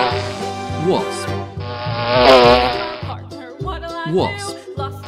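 Toy-insect wasp sound: a loud, close buzzing drone rises and fades over a couple of seconds, framed by brief tonal chirps and a steady musical backing.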